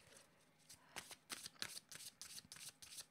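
Tarot cards being shuffled close by, a quick series of soft riffling, flapping bursts in an irregular rhythm against a quiet background.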